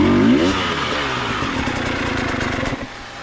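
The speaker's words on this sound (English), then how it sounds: "Notice how all that revving and I went nowhere" A KTM enduro dirt bike engine revs hard in a dry riverbed while the rear wheel spins without traction, a loud buzzing rasp that holds, wavers and then drops off near the end.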